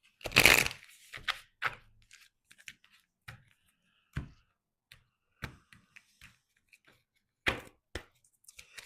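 Tarot cards being shuffled by hand, a deck with one card stuck, heard as a burst of riffling near the start followed by scattered sharp taps and card slaps at uneven intervals, close and fairly quiet with no talking.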